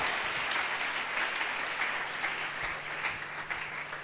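Church congregation applauding and cheering together in a sustained, steady wash of clapping that holds at an even level throughout, with no talk over it.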